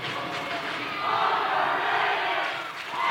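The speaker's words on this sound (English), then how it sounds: "The crowd chants overrated" A basketball championship crowd chants "overrated" in a loud, swelling roar that rises partway through and fades near the end, with a voice faintly under it.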